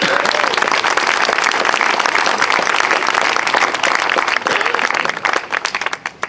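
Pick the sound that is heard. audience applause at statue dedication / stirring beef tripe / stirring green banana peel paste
audience applause at statue dedication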